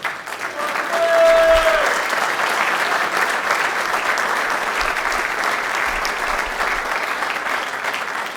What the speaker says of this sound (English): Let's have a round of applause for the